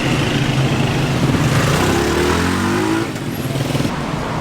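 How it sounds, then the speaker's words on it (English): Busy street traffic in Tehran, with cars and motorcycles passing close by, engines droning and revving, one rising whine sweeping up midway before the rumble drops slightly and continues. "Cars coming from everywhere."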